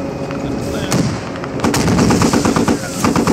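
Gunfire in the squad armor video game, tagged as a sniper's shots, rings out as a dense string of sharp, loud bursts that builds and keeps hammering through to the end, with voices partly mixed in.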